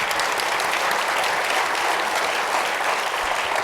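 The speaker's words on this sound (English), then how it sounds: "First a round of applause for the Congressman." An audience gives a loud, sustained round of applause for a Congressman, a thick, even wash of clapping from a large crowd with no voices on top.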